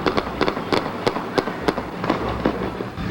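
Police fire a rapid, irregular volley of about a dozen sharp bangs at an armed man in a street, each crack loud and echoing outdoors.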